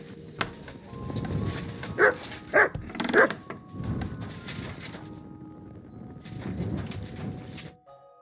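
A dog in the Kingdom Come Deliverance II game gives a few sharp barks, with three quick yips bunched near the middle, over a steady outdoor game ambience.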